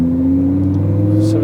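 A 1000hp Lamborghini Huracan running on ethanol fuel idles loudly and steadily while being warmed up, a close, even engine drone with no clear revs.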